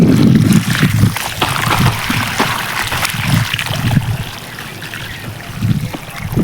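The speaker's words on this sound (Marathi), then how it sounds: "भुईमुगाच्या रानात पाणी चालू केलं" Irrigation water running into a peanut field on a farm, a steady rushing trickle with gurgling surges that continues for the whole stretch, close by and moderately loud, with faint outdoor wind in the background.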